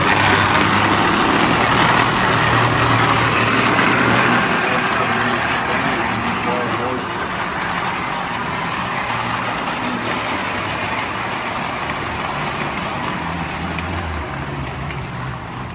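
Lionel No. 2360 GG1 model train locomotive running on a layout, a steady close motor hum and rolling whir that eases slightly in level, with no voices.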